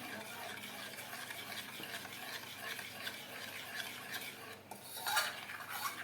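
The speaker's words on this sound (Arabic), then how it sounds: "لبن بودر هنقلبهم كده" Powdered milk is stirred into rice pudding with a spoon in a pot, giving soft repeated scraping and clinking, quiet and close, with a louder scrape near the end.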